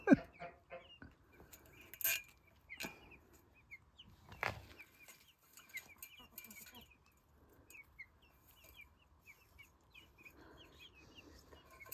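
Chickens cluck in a backyard poultry coop, a scattering of short clucks and calls near and far, with a couple of louder bursts early on and quieter chatter continuing throughout.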